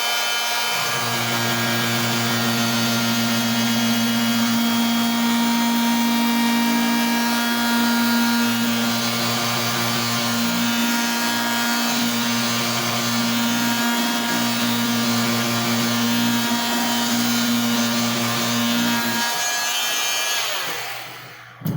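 A variable speed multi-tool with a half moon blade cuts a guide rut into PVC, giving a loud steady buzzing whine up close that runs for about twenty seconds before cutting off.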